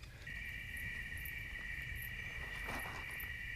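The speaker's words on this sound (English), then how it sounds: "hopefully you can hear these crickets" Crickets chirping in a steady, dense chorus at night in the countryside, loud and continuous with faint crackles near the end and no voices.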